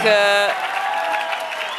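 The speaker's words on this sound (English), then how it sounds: "The crowd goes wild." Crowd cheering and applauding at a 25 m rapid fire pistol ISSF shooting World Cup in Bhopal, India, a burst of claps and shouts rising over the start of a loud electronic tone, then lingering briefly.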